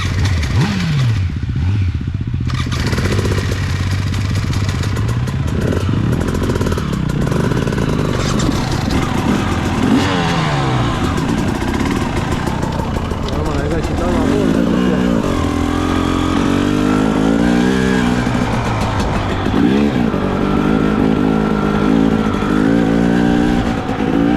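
Motocross bike engine revving continuously at Männiku, loud and close, with rising and falling throttle sweeps and a second engine mixed in, no talk.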